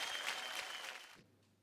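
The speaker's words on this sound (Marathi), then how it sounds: "जोरदार टाळ्या होऊन जाऊ द्या दोघींसाठी" A studio audience at a Marathi televised dance competition claps steadily for two female dancers, the loud, dense applause fading out after about a second into quiet.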